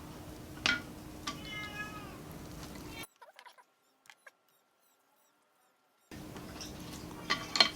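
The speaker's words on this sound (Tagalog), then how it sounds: "Naiyak po yung pusa namin gustong pumasok." A pet cat meows to be let inside, a few plaintive drawn-out cries close by over a steady background hum, broken by a stretch of near silence.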